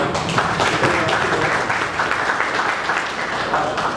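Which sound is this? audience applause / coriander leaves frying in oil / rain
audience applause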